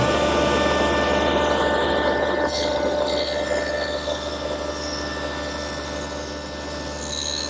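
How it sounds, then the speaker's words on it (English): A saw cuts slowly through pine on a very deep dado setting, a loud continuous whining drone that holds steady, with a sharp bite partway through as the wood is engaged, then settles back to a steady hum. "I'm going to go through the dado slowly because it's set at a very deep depth."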